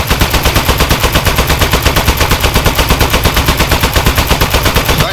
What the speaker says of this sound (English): This thing shoots so good.